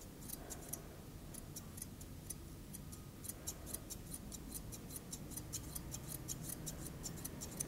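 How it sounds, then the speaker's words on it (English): Thinning scissors snip through a dog's hair while grooming a round poodle-style head, making a quick run of light, crisp metallic clicks that come close and fairly faint over a steady low background hum. "using our thinners, coming up against the direction of the hair growth"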